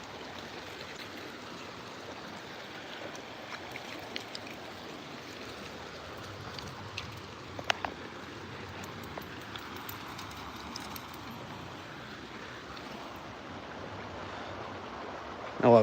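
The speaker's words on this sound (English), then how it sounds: "A little bit of background ambience. The river." A river flows steadily nearby as a low, broadband wash of moving water, constant and fairly quiet throughout, with a few faint clicks and a brief bump at the very end.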